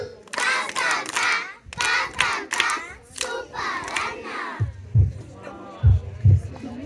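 Pupils at Nyagasambu Vision School chant together in loud, rhythmic bursts. A few heavy, spaced group claps follow, close and punchy.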